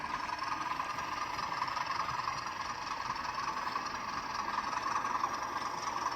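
Steady, continuous rumble of a passing Class 20 diesel locomotive with a droning engine and broad mechanical noise, holding constant throughout with no voices.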